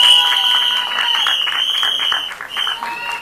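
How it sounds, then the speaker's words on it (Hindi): Audience at a film promotion event for Mere Husband Ki Biwi applauding and cheering, with a sustained shrill whistle running over dense clapping, loud and close throughout. "सीटियां, तालियां।"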